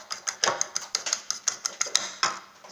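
A whisk or fork beats eggs seasoned with Maggi and salt in a bowl, striking it in a quick, steady series of close clinking taps, heard alone.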